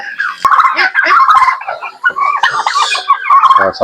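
Turkeys gobbling loudly nearby, a rapid stream of warbling gobbles and clucks overlapping from several birds.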